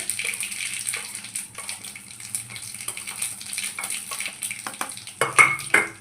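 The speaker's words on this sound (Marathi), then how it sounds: "तेल आपलं आता तापलेलं आहे आता ह्याच्यामध्ये मी हिंग टाकून घेते मोहरी टाकून घेते आणि हे जिरंही टाकून घेते" Asafoetida, mustard seeds and cumin go into hot oil in a pan, a soft continuous sizzle and crackle up close, with spoon scrapes and a few louder clatters near the end, nobody talking.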